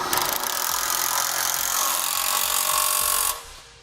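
Power tool whirring steadily close by while tightening a bolt on a Malone 2 Tier LowBed MicroSport trailer, a loud continuous buzz that cuts off abruptly near the end.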